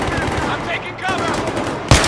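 Automatic gunfire from the video game Battlefield 3 rattles in loud rapid bursts, with shouted voices over the shooting and a sharp loud shot at the very end.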